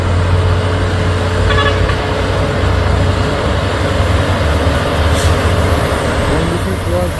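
A loaded trailer truck overtakes on the Bukit Kodok hill road, giving a loud, steady low engine drone and road roar that holds throughout.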